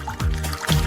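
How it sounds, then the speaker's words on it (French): Water pours from a special tap into a glass, a brief burbling trickle with a rising fill tone, close and fairly loud, with no talk. "Voici un robinet spécial."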